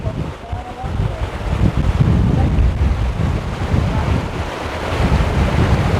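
Steady broadband rushing of a waterfall beside a river, loud and continuous with wind buffeting the microphone, no clear speech over it.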